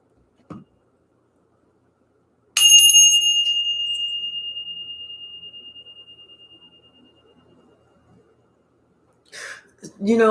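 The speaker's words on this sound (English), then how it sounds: "Let's go ahead and ring the bell." A single bell is struck once to clear the energy and rings out clear and high, its tone decaying slowly over several seconds in a quiet room, with brief breaths or words before and after.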